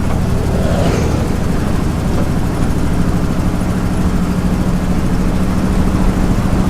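A 1967 Ford F250 ramp truck with a newly fitted carburetor drones loudly and steadily while driving in fourth gear, with a heavy low engine rumble throughout.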